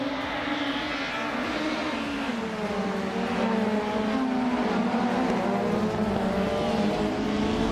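Race cars, a 1991 Vauxhall Cavalier among them, roar around the Knockhill circuit, their engines droning steadily with shifting pitches as the pack moves together, loud and continuous throughout.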